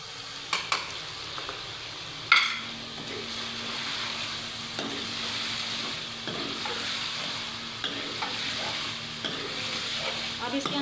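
Meat sizzles in a pan with tomatoes just added, stirred with a utensil that scrapes and clinks a few times early on, then a steady frying hiss continues.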